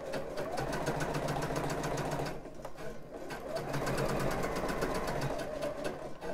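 A sewing machine stitches a bra band, its needle buzzing in a rapid, even rattle close up, stopping briefly midway for a pivot before running on again.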